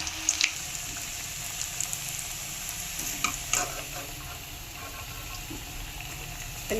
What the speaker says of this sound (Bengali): এইভাবে করে সব লাল লাল করে এরকম করে ভেজে নেব সব কাঁকরোলগুলো